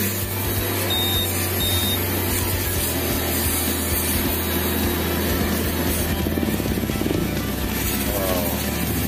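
A Honda Vario 150 scooter engine runs steadily after starting, a continuous close mechanical hum with a faint whine layered over it, loud and uninterrupted throughout.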